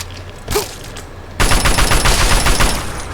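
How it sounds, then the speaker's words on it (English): Assault rifle fire in the video game Fallout 3: a short shot-like burst, then a loud sustained run of rapid automatic gunfire with no talking. "we want to switch to the other weapon that we have, which is the assault rifle"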